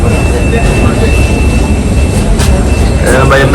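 Loud, steady roar of an Emirates jet airliner between Dubai and Colombo, a constant deep engine rumble with a high whine, heard up close and continuous, with faint voices near the end.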